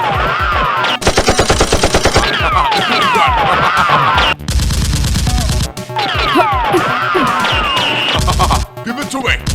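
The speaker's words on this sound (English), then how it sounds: "The girl stops at a wooden barrier and shoots at Sinkman." Toy Nerf guns in a staged outdoor battle fire in rapid, loud bursts of repeated shots, mixed with dramatic effects and voices.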